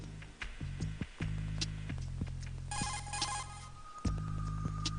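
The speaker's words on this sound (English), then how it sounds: "Cause now's the time for a Colonel, phone call." An incoming codec call rings in Metal Gear Solid 2: Sons of Liberty, a steady electronic ringing tone that repeats with ticking pulses throughout, fairly quiet and heard alone without speech.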